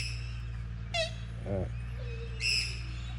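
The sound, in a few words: ducks and birds calling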